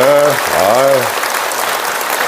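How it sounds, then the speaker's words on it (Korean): A church congregation gives welcoming applause to visiting parishioners, a short burst of clapping that overlaps with someone speaking at the start. "우리 여러분들 또 환영의 박수"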